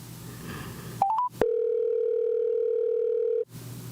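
A phone call placed over a Bluetooth connection gives a few quick rising dialing blips followed by one long, steady, loud ringback tone lasting about two seconds before it cuts off, heard alone with no talking.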